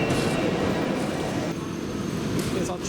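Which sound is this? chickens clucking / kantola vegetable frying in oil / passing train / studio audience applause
passing train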